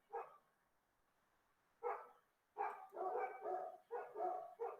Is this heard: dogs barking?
yes